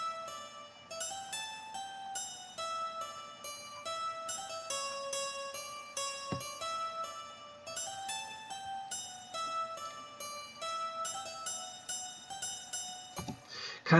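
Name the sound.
guitar melody for a drill beat in FL Studio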